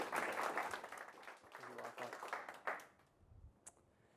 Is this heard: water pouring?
no